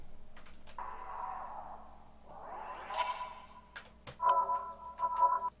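Pitch-shifting effect from the DubTurbo VST plugin: swooping tones that rise and fall in pitch, then a steady pulsing tone near the end, moderately loud with a few short clicks and no voices.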